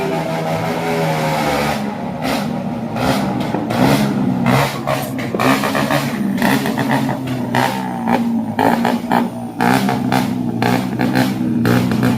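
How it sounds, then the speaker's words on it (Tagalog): Motorcycles rev loudly on a street during New Year's Eve celebrations, with repeated throttle bursts and sustained engine roar filling the whole stretch, close and continuous without talk. "Ayan na yung mga bumanorbor na motor sa kalsada."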